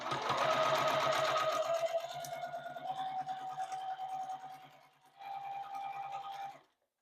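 A sewing machine stitching a quarter-inch quilt seam on a log cabin block, running steadily and close for several seconds with an even whirring hum, a brief slowdown, then a final burst before stopping.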